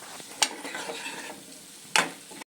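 Chilli powder frying in a raw prawn curry as it is stirred in a pan, a soft continuous sizzle with two sharp scraping strokes of the spoon, ending abruptly, with no talking.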